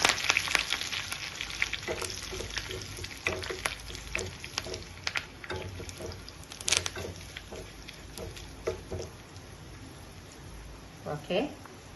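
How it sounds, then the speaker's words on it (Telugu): Curry leaves crackling in hot oil with fried onions for an old-style tamarind chutney: a bright, close sizzle with scattered sharp pops and spatters, gradually easing, with a voice speaking in the background. "ఉల్లి ఫ్రై అయినాక ఇప్పుడు కరివేపాకు వేసుకున్నాం"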